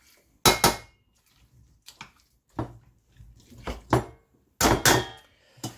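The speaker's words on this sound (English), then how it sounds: "So I'm just going to take a potato masher and" Potato masher pressing blackberries in a metal pot, a series of sharp clanking, squelching strikes spaced irregularly, loud and close, with quiet gaps between.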